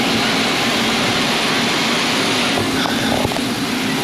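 Airplane engine at an airport, a steady broadband jet roar that stays loud and constant throughout, with no talk over it.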